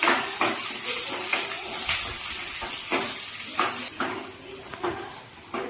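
Shallots and dried red chillies sautéing in a pan after mustard seeds have popped, making a steady hiss and sizzle with soft scraping stir strokes, close and continuous.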